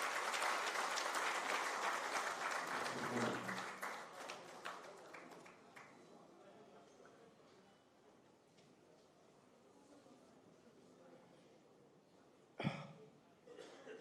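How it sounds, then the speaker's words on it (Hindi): Audience at a felicitation ceremony gives a round of applause for the chief guest, loud at first and then tapering off into scattered claps and room noise, with a brief louder clatter near the end. "आइए तालियों के साथ हम एक बार दोबारा इनका स्वागत करें।"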